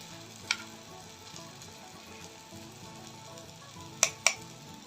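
Susiyam sweet dumplings for a Varalakshmi Vratham offering fry in hot oil with a steady, even sizzle, broken by a few sharp clicks and pops near the start and again toward the end.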